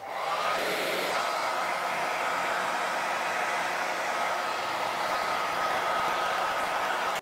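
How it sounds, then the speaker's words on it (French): A hair dryer blows continuously at close range to dry a watercolour pencil drawing, a loud steady whooshing roar that holds from start to finish. "je vais directement aller avec le sèche-cheveux"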